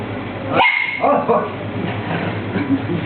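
A dog barks sharply a few times close by, with people talking over and around the barks.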